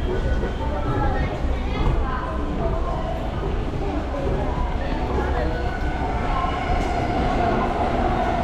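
Chuo Line local train at Nishiogikubo station, a steady loud rumble of rolling carriages and wheels on track filling the platform, with a public announcement voice speaking over it.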